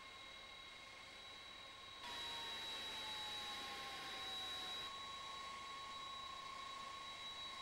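A large 160-tonne jet approaching on the airport apron at Düsseldorf, its engines whining and roaring steadily at close range, a sustained high-pitched tone over broad rushing noise that swells and holds.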